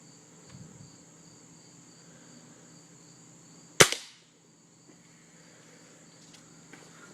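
A single sharp crack of a .177 caliber pellet gun fired at a water bottle downrange outdoors, one loud close shot with a short ringing tail, set against a steady background of chirping crickets and insects.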